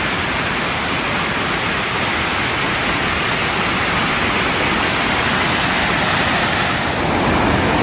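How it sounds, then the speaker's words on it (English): A 20-meter waterfall on a hiking trail near Chiang Mai, Thailand, pours in a dense, steady roar of rushing water that fills the whole scene without a break. "This is the biggest waterfall on this hike,"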